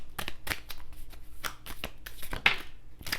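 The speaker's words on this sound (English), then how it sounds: "Let's keep shuffling." A deck of tarot cards being shuffled by hand, with quick riffling bursts and soft slaps in an uneven rhythm, close and fairly quiet with no talk.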